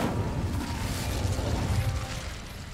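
The Incendio fire spell goes off in Hogwarts Legacy as a dense, rumbling burst of flame with crackling and mechanical clatter, loud and continuous through the clip.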